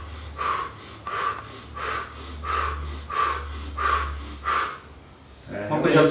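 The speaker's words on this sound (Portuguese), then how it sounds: "Acelera a respiração." Rapid, forceful rhythmic breaths during a Systema martial arts pain-tolerance exercise, about seven sharp sniffing exhalations in an even pulse over a low steady hum, ending as another sound rises.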